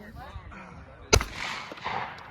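A single sharp gunshot at a target on a farm, a close, loud crack in the middle of the clip, with voices talking before and after.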